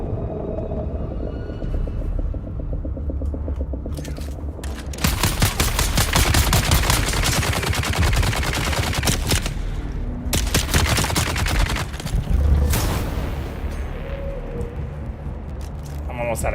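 A Gatling gun fires in a video game, a long, loud continuous rattle of rapid shots that runs for several seconds, stops and starts again, with a rumbling backdrop underneath.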